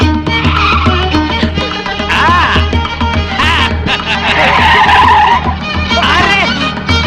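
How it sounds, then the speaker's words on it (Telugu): Car driven fast in a Telugu film scene, with a loud, sustained engine roar and squealing, skidding tires that rise and fall throughout, with voices mixed in. "నువ్వు ఇంత స్పీడ్ గా డ్రైవ్ చేస్తుంటే నాకు చాలా హ్యాపీగా ఉంది"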